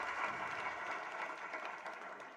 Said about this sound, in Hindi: तो वो ताली आप सुनते जाओ